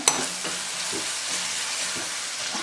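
Green onion and gathiya curry sautéing in a pan over low to medium heat, a steady close sizzle with soft stirring scrapes and one sharp clink at the start.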